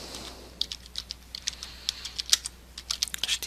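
Computer keyboard typing an HTML doctype tag, a rapid close-up flurry of light, irregular key clicks over a quiet room hum.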